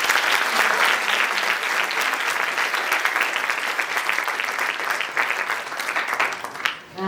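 An audience at a school event claps steadily and densely throughout, a close, even wash of applause that fades slightly at the very end.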